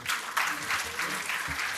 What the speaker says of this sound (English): Can we have an applause for that, please?